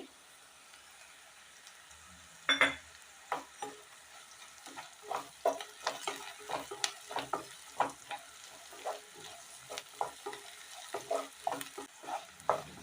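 Curry leaves and sliced onions fry in hot oil for aloo fry, with a steady sizzle and repeated scraping stir strokes of a spoon against the pan, close and moderately loud, no talking.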